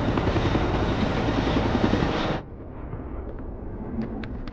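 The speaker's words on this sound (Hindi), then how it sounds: "ट्रेन पे चौपर लैंडिंग" Helicopter in a movie scene, landing on a train: a loud, steady, broadband rotor and engine roar that cuts off abruptly, leaving a quieter rumbling background with a few faint clicks.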